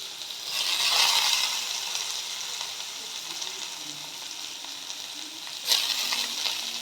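Onion frying in a pan for Punjabi-style mustard greens gives a steady, bright sizzle that swells early, settles into a constant hiss, then flares briefly near the end.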